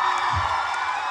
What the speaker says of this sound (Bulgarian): Бурни аплодисменти за нея!